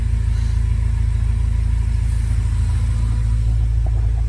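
A 5th-generation Honda Prelude engine with a newly installed AEM fuel pump idles smoothly and steadily up close, a constant low even hum with no misses or crackle.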